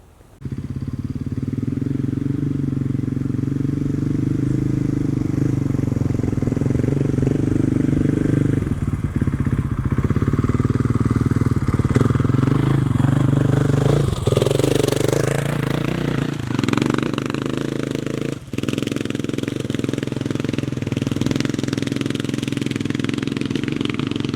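A KTM 500 EXC dirt bike fitted with a Power Bundle kit runs in fourth gear, its engine droning loud and steady for about twenty seconds as the pitch rises and dips with throttle changes.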